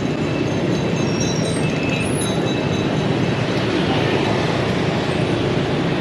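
A train rolling through a railway crossing on a Saigon street, a loud continuous rumble of wheels and cars with a brief high squeal, mixed with surrounding traffic noise.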